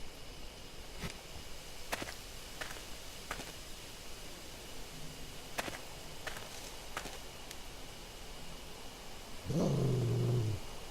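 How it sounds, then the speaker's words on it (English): A low growl from an unseen creature in the Death Mark video game, a short rough rumbling growl near the end after a quiet stretch with faint scattered clicks, fairly close and alone. "I hear a low growl from somewhere."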